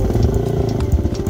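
A Beta Xtrainer enduro dirt bike labors up a rocky hillclimb, its engine a loud, close, rumbling drone with rapid pulsing and faint clatter, steady throughout with no talking.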